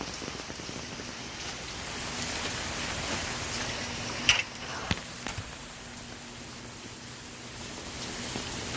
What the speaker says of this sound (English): The rain is finally letting up.